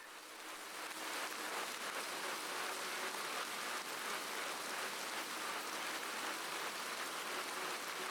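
Steady rain falling during a road cycling fondo ride, a dense continuous hiss of drops on surfaces that swells in over the first second and holds evenly, with no voices.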